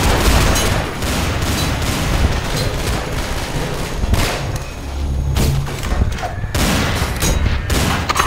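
Loud, continuous gunfire in Garry's Mod Zombie Survival, rapid overlapping shots and bursts from several weapons with a few heavier thumps, close and dense for the whole stretch.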